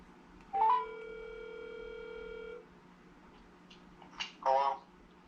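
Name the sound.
telephone dialing a number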